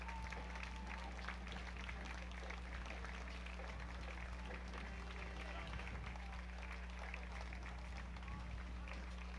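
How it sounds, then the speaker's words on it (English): Spectators lining the street at a 2007 Memorial Day parade in Wallingford applaud marching units, scattered clapping and crowd noise over a steady outdoor hum, fairly distant and low in level. "And a very nice applause from the crowd here."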